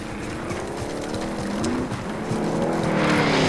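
A car is driven in Call of Duty Warzone, its engine holding a loud, steady drone that slowly rises in pitch and surges over a few seconds, with tire noise and no talking.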